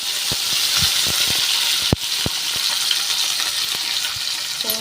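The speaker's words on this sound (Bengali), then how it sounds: "আর এই যে তেলের মধ্যে আমি একটু গোটা জিরে দিয়ে দিয়েছি ফোড়নে।" Whole cumin seeds sizzle in hot oil as a tempering for a cauliflower and tengra fish curry. The hiss is loud, close and continuous, with scattered sharp pops and one stronger clack midway, and no talking.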